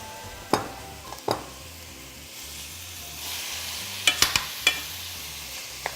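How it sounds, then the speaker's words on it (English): Ground beef browning in a pan for bowtie lasagne, a steady soft sizzle with occasional sharp taps and scrapes of a utensil against the pan. "Next up, we have our ground beef. Want to get this browned in there."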